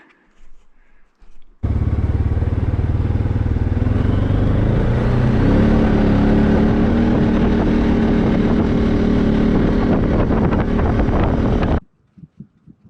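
ATV engine running close by on a rural property, a steady loud rumbling drone that holds for about ten seconds, with faint rises in pitch as it revs, then cuts off abruptly.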